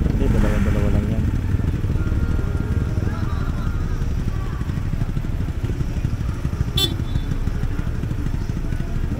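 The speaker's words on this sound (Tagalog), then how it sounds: "Dalawang motor." Two motorcycles on the road near Daraitan rumble continuously at close range, engine noise steady and loud throughout, with a brief clatter midway.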